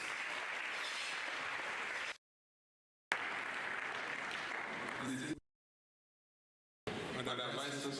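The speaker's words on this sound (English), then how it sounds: "Please let's give ourselves a round of applause." An audience at a university ceremony with the Vice Chancellor applauds in a loud, steady wash of clapping, broken by abrupt silent gaps, with a voice speaking briefly near the end.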